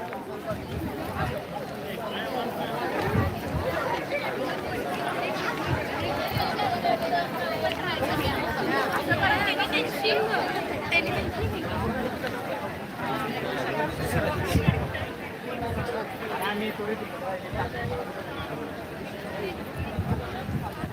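Dense babble of a huge crowd of students at the Shivaji University convocation, many voices overlapping at a steady, moderate level with occasional louder bursts and footsteps.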